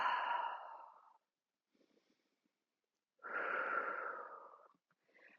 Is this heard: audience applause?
no